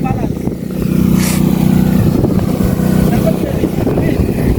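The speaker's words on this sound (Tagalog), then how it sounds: "Maingay po yung generator" A loud, steady engine drone rumbles throughout, like a running generator, with people talking over it.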